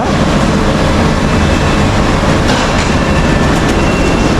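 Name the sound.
train running on tracks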